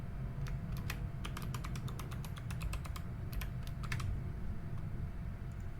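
Steady bursts of keystrokes on a computer keyboard as an email address and password are typed in, clicks coming in quick irregular clusters over a low constant room hum, with no talking.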